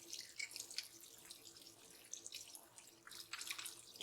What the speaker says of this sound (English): And get it all washed up good.